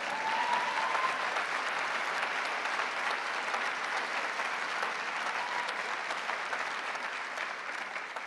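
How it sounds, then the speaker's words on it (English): Steady, sustained applause from a large audience at a Labour Party annual conference, loud and continuous throughout with no break and no speech over it. "You can give me a clap for that bit."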